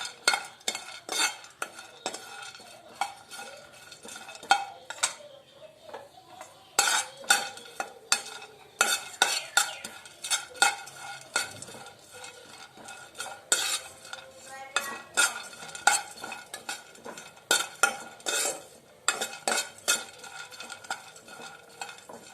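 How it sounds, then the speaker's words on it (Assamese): Coconut, almonds and cashews being stirred and fried in a wok for besan ladoo, with repeated sharp clatters of a metal spatula scraping the pan in irregular bursts over a faint sizzle, close and alone without talk. "এতিয়া মই ডাব আৰু আলমন্ড কাজু অলপ ভাজি লম"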